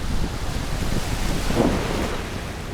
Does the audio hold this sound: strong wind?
yes